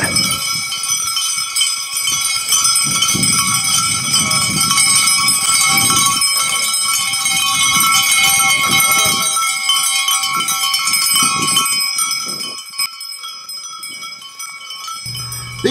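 A flock of St. Croix sheep wearing bells streams into a geodesic tunnel dome barn, many bells clanking and jingling continuously and close, with occasional bleats and shuffling beneath.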